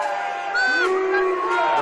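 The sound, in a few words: stadium crowd cheering at rugby league semi-final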